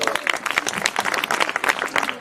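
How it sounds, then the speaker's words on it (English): An audience at a Mandela Day career advice event claps for a short, lively burst of applause, with individual hand claps popping through the crowd sound. "give yourself a round of applause."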